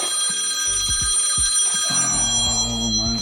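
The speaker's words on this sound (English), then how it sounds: "Oh, my phone." A mobile phone rings close by in a short, bright, repeating pattern over a low hum of background tones.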